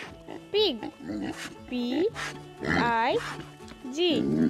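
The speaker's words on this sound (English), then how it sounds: "Pig." Pig oinks and grunts repeat in quick irregular bursts, close and fairly loud, in a children's animal-names sequence, with voice-like tones mixed in.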